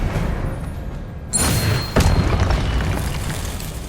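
Expelliarmus spell cast in the Hogwarts Legacy video game, a sudden whooshing burst followed by a booming impact with a lingering rumble, loud and alone.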